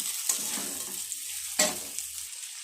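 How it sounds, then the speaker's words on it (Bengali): Chowmein with fried vegetables being stirred and frying in a pan, a steady soft sizzle broken by scraping strokes of the spatula, two sharper clatters standing out, close and without talk. "তো আবারও দিয়ে দিলাম চাউমিন আর ভাজাগুলো, এগুলো আবার আস্তে আস্তে নাড়বে।"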